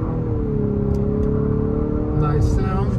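A 2022 Infiniti QX50 pulls away at speed from inside the cabin, with a steady low engine rumble and road noise and a voice talking over it.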